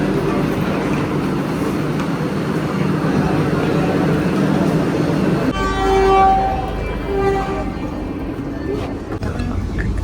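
A Vande Bharat train at a station: a steady rumbling roar, then sustained horn-like tones in the second half, heard close and loud with faint voices in the background.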